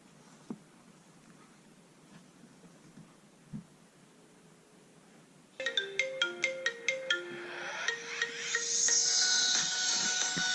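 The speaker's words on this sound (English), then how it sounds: "So that's the ringtone." A quiet stretch with a couple of soft taps, then a phone ringtone starts midway: bright repeating electronic tones that build into a sustained melody.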